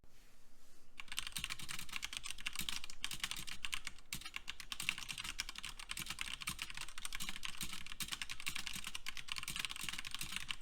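Fast, steady typing on a modded computer keyboard at a desk, a dense run of crisp key clicks and clacks continuing without pause, close and clear with no voices.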